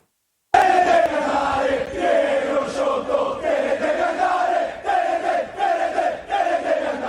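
Messina football supporters chanting in protest against the ACR club owners, a large crowd singing a loud rhythmic, sustained chorus that starts abruptly and carries on in repeated swelling phrases.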